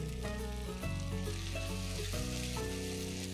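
Vegetable filling for bread canapes is mixed in a hot pan with salt, pepper and chopped green onion, giving a steady close sizzle with scraping stirs throughout and no talking.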